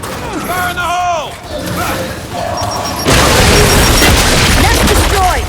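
A frag grenade bursting inside a nest in the Gears 5 video game, a sudden loud boom that swells into sustained crashing noise over busy combat sounds and creature squeals.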